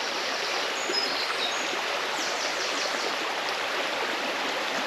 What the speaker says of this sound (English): There's just something about the sound of water